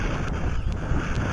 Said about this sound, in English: And even today it's very windy.